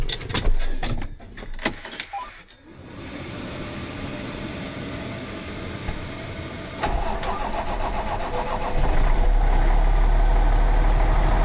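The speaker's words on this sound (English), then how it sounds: "let's get this truck fired up" A pickup truck that has sat idle through snowy weather is started. Keys jangle and the starter cranks before the engine catches. It settles into a steady close idle, then rises to a louder, fuller rumble.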